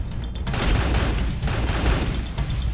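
A water-themed shark bullet skill fires in a video game, a loud, dense volley of rapid gunfire-like blasts with heavy booming lows that runs steadily throughout.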